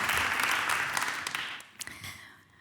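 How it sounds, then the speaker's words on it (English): Brief applause from an audience at a fusion energy technology panel, a burst of clapping that is fairly quiet and fades out within a couple of seconds. "Can we have a round of applause, please?"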